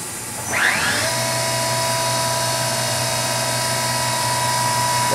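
Engine winding up to 2000 RPM in low gear, a rising whine that settles into a steady, loud drone with a constant hum beneath.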